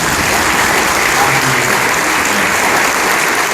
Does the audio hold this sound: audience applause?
yes